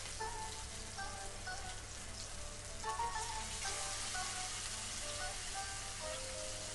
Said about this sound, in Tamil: நான் ஃபிஷ் ஃப்ரை பண்ணுறதுக்கு தேங்காய் எண்ணெய் தான் யூஸ் பண்ணுறேன்